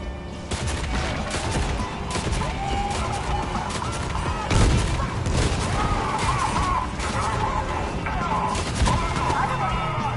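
Bursts of rapid gunfire and booms from the Fortnite video game, loud and busy in a cluttered mix with other game noise and a voice talking over it.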